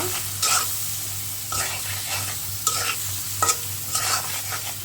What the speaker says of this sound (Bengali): চিংড়িগুলোকে আমি ভেজে নিব।